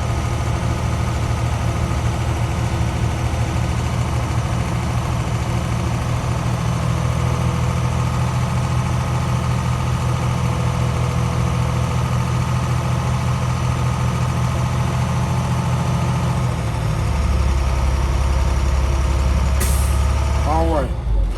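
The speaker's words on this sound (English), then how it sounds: "we're going to then receive the governor cutout, which is the psst sound" An old 300-series diesel bus idles with a steady low rumble, its tone shifting near the end before a short, sharp psst of compressed air as the air governor cuts out.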